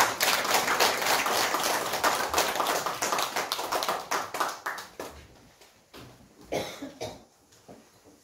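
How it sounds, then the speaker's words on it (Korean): A church congregation applauds at a deaconess ordination service, loud dense clapping that breaks into separate slowing claps and a few final scattered claps as it dies away. "다시 한번 박수 한번 쳐주세요."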